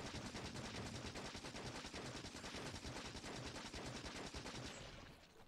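Gunfire in the Factorio Space Age video game, a dense, rapid machine-gun-like rattle sustained at a steady level for several seconds before tapering off at the end, with no talk.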